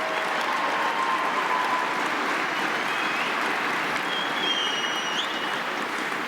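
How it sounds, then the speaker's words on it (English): A crowd at a youth conference closing show gives sustained applause in a large room, a continuous wash of clapping with little talk. "Let's give them another round of applause for Cindy and Sabrina"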